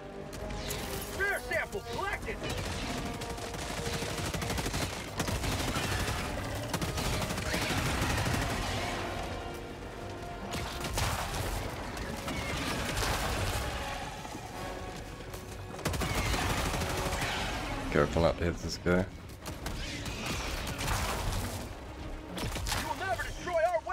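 Sustained gunfire from a weapon in the video game Helldivers 2, dense rapid bursts repeating through most of the stretch with brief pauses, loud and continuous beneath a player talking.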